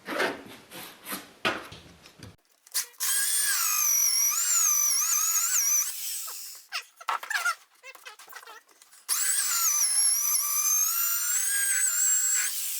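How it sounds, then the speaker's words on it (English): A corded electric drill whines loudly in sustained bursts drilling into a mobile home ceiling, bogging and scraping between runs, with a high-pitched motor tone and choppy grinding in the gaps. "I'm going to use my electric instead of the battery power drill for this"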